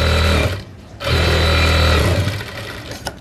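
A sewing machine stitches a line along fabric lining attached to a sleeve, loud and close, running in a rapid mechanical whir with a short pause before stitching resumes and then slowing.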